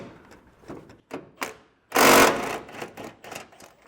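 Bolts being removed from the tow hook of a 2021 Nissan Rogue Sport, with short ratcheting clicks, then one loud burst of a power tool lasting about half a second, followed by more quick clicks and clatter.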